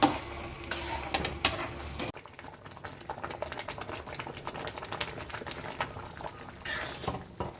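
A pan of sugar syrup for carrot halwa bubbles and crackles steadily, close up, with a brief louder clatter near the start.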